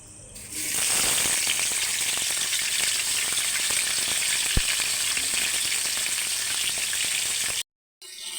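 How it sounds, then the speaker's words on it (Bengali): Chopped potatoes fry in hot oil in a wok, a loud steady sizzle with crackling that holds for most of the stretch, with one sharp tick midway, before cutting to brief silence near the end. "কড়াই বসিয়ে তেল দিয়ে দিয়েছি, আলুগুলো দিয়ে দেবো, দিয়ে আলুগুলো একটু ভালো করে ভেজে নেব।"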